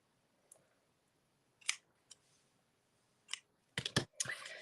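Scissors snipping a paper bow for a handmade card: a few sparse, close crisp cuts separated by pauses, ending in a quick cluster of sharper snips.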